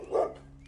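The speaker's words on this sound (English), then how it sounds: "His barks echoed off the high ceilings, filling the room with a sense of urgency and alarm." A single short bark from a large dog indoors, a quick mid-pitched burst that fades into a faint lingering tail, with no talk.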